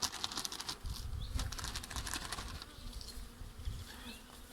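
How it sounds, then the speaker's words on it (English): A dense, steady buzz of a full box of bees close by as the hive lid is opened, with rustling and scraping sounds from handling mixed in. "this is about a full box of bees in here"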